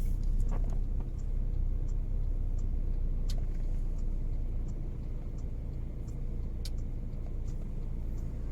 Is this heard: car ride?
yes